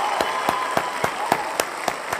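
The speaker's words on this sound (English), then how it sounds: "A big round of applause for all our gold and platinum members" A round of applause rises during a leadership talk. It sounds like a few sharp, evenly spaced claps at a steady quick beat, close and moderately loud, like one person or a small group clapping.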